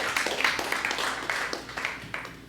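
An audience at a San Francisco Meteor Night event claps for presenters in a close, busy patter of hand claps with sharp individual slaps standing out, fading a little toward the end.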